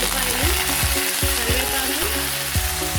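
Vegetables with green chilies and tomatoes frying in tempering oil in a pan for potato upma curry, a steady loud sizzle running throughout with a low rumbling underneath.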